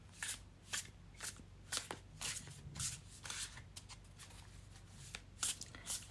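Playing cards are drawn and slid from a deck in a quick series of crisp, papery flicks and rustles, close and alone against a low background hum.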